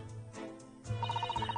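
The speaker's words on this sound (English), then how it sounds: "You pull the rope, ring the bell, then a servant appears." A servant call bell rung by pulling a rope in The Great Ace Attorney, a rapid string of about ten bright metallic rings at an even rhythm, clear and fairly close over a low background hum.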